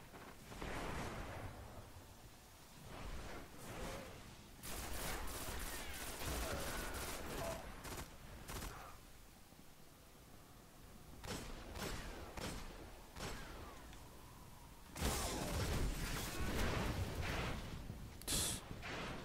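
Gunfire in Destiny's Iron Banner player-versus-player mode, with repeated volleys of shots and bursts spread across the span and some quieter gaps between them, at a moderate distance.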